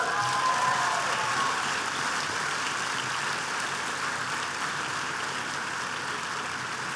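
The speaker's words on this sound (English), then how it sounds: "please give yourself a round of applause for that" Graduation audience applauding at a doctoral ceremony, a steady broadband wash of many hands clapping that holds at an even level for about seven seconds with no voices over it.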